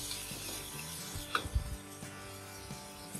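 Fried chickpeas tumble into a pot and get stirred, with soft scraping, rubbing and light clatter against the pan, plus a faint sizzle, close and fairly quiet, no voices.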